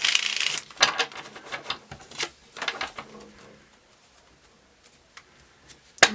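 Tarot cards shuffled by hand in a quiet room: a crisp riffle at the start, then several short papery bursts and slides that fade to near silence, with one sharp snap at the end.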